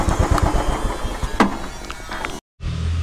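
A motorcycle engine runs steadily nearby as the rider brings his bike to a stop and parks it, with a rising rev partway through before the sound cuts out briefly and resumes.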